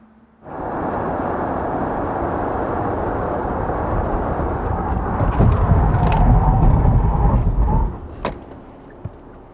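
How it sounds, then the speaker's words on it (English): A heavy Genesis GV80 diesel SUV brakes hard to a complete stop: a loud, steady rush of road and tyre noise builds and rumbles for several seconds, then cuts off abruptly as the vehicle halts, leaving near quiet. "why don't we check out the braking performance of Genesis GV80 with diesel engine"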